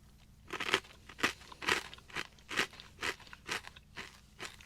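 Barbecue-flavored corn nuts from an MRE are chewed up close, a regular series of about ten sharp, crisp crunches at a steady pace.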